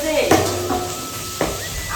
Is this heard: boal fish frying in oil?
yes